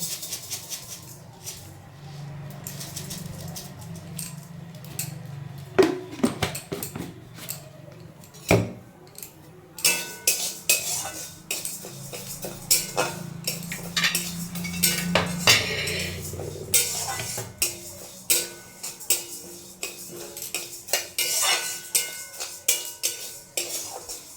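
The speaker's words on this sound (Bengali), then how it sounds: "এই দেখো এখন মুগ ডালটা ভেজে নেবো" Mung dal dry-roasting in a metal pan on a home stove, with a spatula scraping and clinking against the pan in irregular bursts, near and fairly quiet with a low background hum.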